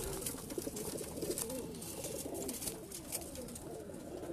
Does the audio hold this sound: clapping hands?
no